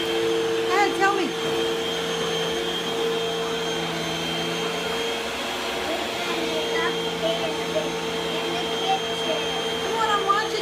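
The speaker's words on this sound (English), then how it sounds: "Vacuum, go." Vacuum cleaner runs continuously at home with a steady whine and hum, its pitch shifting a little as it moves, while a voice and an adult's voice come through faintly now and then.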